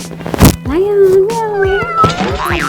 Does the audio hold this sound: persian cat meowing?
yes